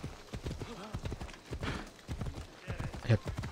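Hooves of the horse Phobos in Assassin's Creed Odyssey, a steady rhythmic clip-clop of a slow ride, fairly quiet and heard under continuous talking.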